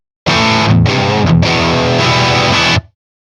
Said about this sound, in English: Pretty normal sounding distortion